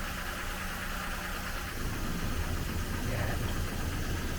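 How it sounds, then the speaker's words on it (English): The engine of a 1939 Rover Tickford 20 drop-head, running after 60 years, gives a steady rough close idle that rises slightly in a gentle rev partway through, with no talking. "let's put it to full, and I'll rev it up"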